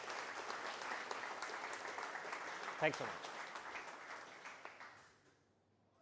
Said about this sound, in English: So also a big round of applause for SumUp for having us here today.